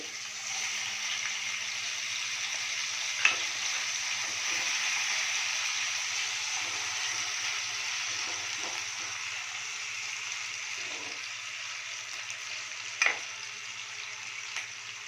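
Chopped capsicum fries in salted oil with a constant, even sizzle and hiss, joined by a couple of sharp utensil taps against the pan and a few soft stirring sounds, with no one talking.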